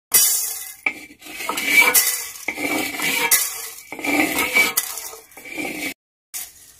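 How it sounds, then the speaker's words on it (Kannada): Roasted coriander seeds are scraped from a pan into a bowl with a metal spoon, giving repeated close scraping and clinking bursts with short pauses and one brief silence near the end. "ಇವಾಗ ನಾನು ಇದನ್ನು ಒಂದು ಬಟ್ಲಿಗೆ ತೆಕ್ಕೊಳ್ತಾ ಇದ್ದೀನಿ"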